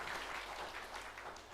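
Church congregation at a Korean Sunday worship service applauding to bless a newly confirmed member, a soft, continuous patter of many hands heard from a distance.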